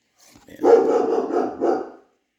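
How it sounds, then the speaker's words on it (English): A pet dog gives a single drawn-out, strained bark that sounds a little muffled, as if from nearby in another part of the house, and then the clip falls silent. "My dog stopped barking."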